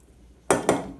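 Canned salmon dropped into a bowl, two quick clinks of metal and dish in close succession against a quiet kitchen background.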